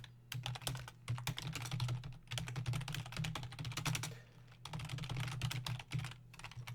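Rapid typing on a computer keyboard in bursts of dense key clacks, close and clear, with short pauses between runs over a low steady hum.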